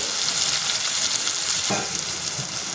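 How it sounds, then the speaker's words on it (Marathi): Tomatoes sautéing in a hot pan for a palak masoor bhaji give a steady, close sizzle, with a brief burst of louder frying as they are stirred partway through. "आता त्यामध्ये मी टोमॅटो ॲड करून ते पण छान परतून घेते"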